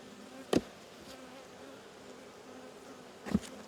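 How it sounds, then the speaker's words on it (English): Young honeybees in a month-old hive during an apiary inspection, a faint steady buzz hanging in the background with two brief louder knocks or bumps, no talk. "a lot of work to be done by these bees."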